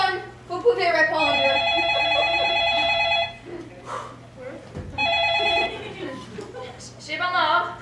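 An old-style telephone bell rings at a restaurant in a stage play, two long rings separated by a pause, loud and close, with actors speaking over and between the rings.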